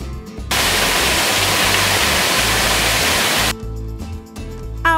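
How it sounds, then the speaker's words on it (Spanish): Small waterfalls and water jets pour at a bathing spot in Chalchuapa, El Salvador, making a loud, dense, continuous rush of falling water that cuts in abruptly and drops away near the end. "el agua sigue su recorrido, ha formado chorros o pequeñas cascadas"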